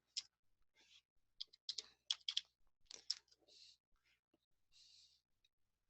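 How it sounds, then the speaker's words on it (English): A password is tapped out on a computer keyboard, with soft, close keystrokes in quick irregular clusters separated by brief quiet gaps. "Make sure that I type in my password correctly."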